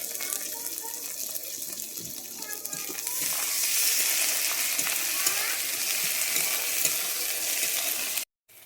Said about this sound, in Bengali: আমার টমেটোটা ভাজা হয়ে গেছে